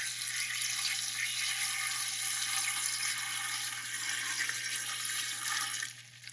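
Water poured from a pitcher over pokeberries in a large pot, a steady loud hissing splash that runs continuously for several seconds before tapering off near the end, with no talking.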